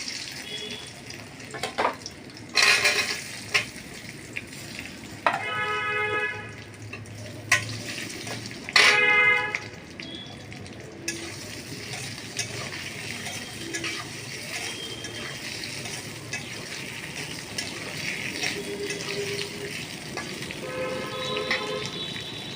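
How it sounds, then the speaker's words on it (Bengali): Potatoes fry in a pan with black cumin, a continuous low sizzle broken by bursts of metallic scraping and stirring clatter in the first half, with no talk. "একটু ভেজে নিচ্ছি।"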